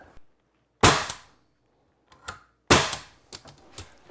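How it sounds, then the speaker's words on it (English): A nail gun drives nails into a bi-fold door frame. Two loud, sharp pneumatic snaps ring out close by, each followed by lighter clicks and rattles from the tool being repositioned. "Just going to put 3 nails in it."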